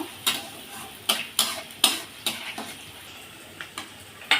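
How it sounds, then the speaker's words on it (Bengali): Onions frying in a pan for a small-fish curry get stirred with a utensil, giving a series of separate scraping, clinking strokes at an uneven pace over a faint background sizzle, close and fairly quiet. "সেরকম একটু নেড়ে চেড়ে ভেজে নেব"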